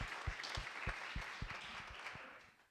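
Applause from the sales team at a company meeting, fairly faint clapping with a few distinct sharp claps standing out, easing off toward the end.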